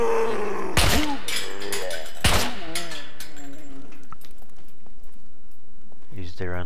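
Footsteps in the survival game Scum with a metallic ring: a few sharp, loud impacts early on, then fainter scuffing steps fading into quiet game ambience.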